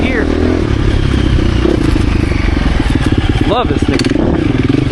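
A 2024 KTM 350 EXC-F four-stroke dirt bike pulls hard in third gear, its engine a steady close buzzing drone with clattering bumps from the terrain, while a rider's voice talks briefly over it.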